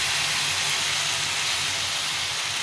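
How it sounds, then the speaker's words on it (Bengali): Ground paste of dry red chili, ginger and cumin frying in hot oil for a curry of broad beans, eggplant and radish, giving a steady, close, loud hiss and sizzle throughout without pause. "এটা এখন দিয়ে দেবো। দিয়ে ভালো করে ভেজে নেব।"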